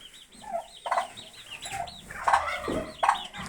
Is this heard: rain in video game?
no